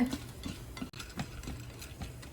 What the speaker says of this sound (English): So I'm going to fry them until they are slightly golden brown.